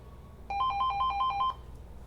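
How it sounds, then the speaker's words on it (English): A telephone rings in a single burst of about a second, a rapid warbling electronic trill that stands clearly above low background hum. "And here we go with the phone again"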